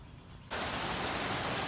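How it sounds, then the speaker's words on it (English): Steady rain falls at a van build site, starting abruptly as a dense, even hiss that continues without break and with no voices. "another day of lovely, lovely weather, rain. Just coming on down."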